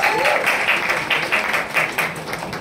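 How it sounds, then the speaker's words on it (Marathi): Audience applause at a Marathi film trailer and music launch event, steady crowd clapping in pulsing waves across the whole stretch, fairly loud and unbroken. "एकदा जोरदार टाळ्या या सगळ्यांसाठी झाला पाहिजे."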